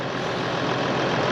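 Tractor engine running steadily on a farm during cleanup after a prolapsed cow calved, a dense low rumble with no pauses, close and fairly loud throughout.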